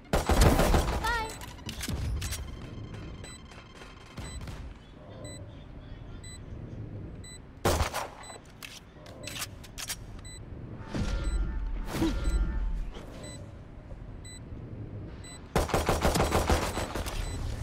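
Rapid gunfire bursts from a shooter video game, loud sharp volleys and fusillades recurring across the stretch with quieter gaps of game noise between, a final dense barrage near the end.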